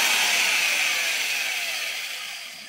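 A hand drill spins a hone inside a cylinder bore of a Mustang Fastback engine block, a steady high-pitched whirring grind that holds constant and slowly fades over a few seconds, with no talk.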